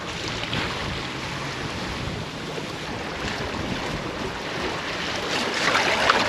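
A sailboat moving under sail in summer, with a broad rush of wake, waves and wind noise, loud and continuous, swelling slightly toward the end, no talking.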